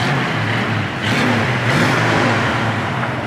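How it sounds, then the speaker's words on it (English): A 1967 Ford Mustang engine rumbles and revs through dual exhaust, loud and close, with a steady low throb that swells briefly. "Good sounding dual exhaust."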